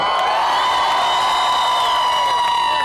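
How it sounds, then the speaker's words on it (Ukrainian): A crowd at a concert in Lviv cheers and shouts in a loud, continuous wash, with whoops and sustained tonal cries on top and no clear break. "Оплески!"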